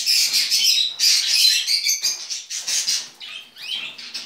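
A cockatiel chirps close by in a string of shrill, bright calls, each burst separated by brief gaps, with no other sound around it.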